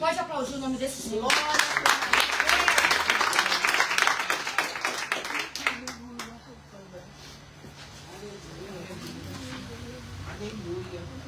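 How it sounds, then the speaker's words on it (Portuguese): An audience bursts into loud clapping that gradually thins out, leaving scattered claps and a low murmur. "pode aplaudir o nome desse Senhor."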